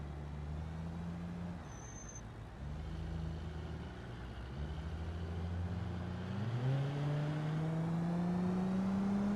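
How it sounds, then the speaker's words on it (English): A car engine in the BeamNG video game, droning steadily and rising in pitch as it accelerates through gear changes, moderately loud and continuous with no talking. "That guy's car sounds worse than mine."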